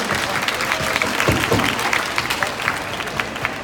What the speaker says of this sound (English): let's give another round of applause for the amazing performers